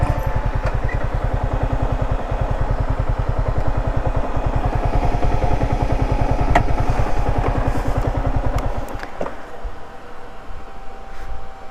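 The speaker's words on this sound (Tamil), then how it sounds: "ஃபேன் வேறு ஓடிட்டுருக்கு." A parked Yamaha R15 M motorcycle runs loud and close with a steady, rhythmic engine pulse and a fan-like whir, which cuts off abruptly near the end and leaves a quieter hum.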